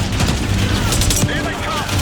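Gunfire in the Black Ops 6 campaign mission The Cradle: dense, rapid bursts of shots and booms filling about two seconds of loud battle noise, with voices mixed in.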